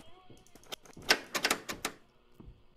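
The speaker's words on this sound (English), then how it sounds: "He's locked the door!" A door being locked in the video game Northbury, heard as a quick cluster of close mechanical clicks and clunks in the middle of the clip, loud against a quiet background.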